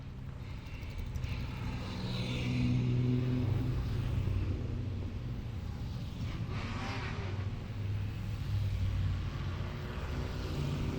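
Historic racing cars of the Pall Mall Cup accelerate away from a 43-car grid at Silverstone, a broad, steady engine roar heard from a distance, swelling slightly as the field pulls away.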